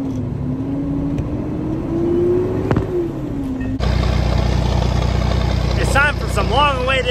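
A John Deere 4020 tractor with a turbo runs with a steady mid-range engine drone that shifts pitch as it revs. Near the end the engine note jumps louder and rougher, and a voice talks over it.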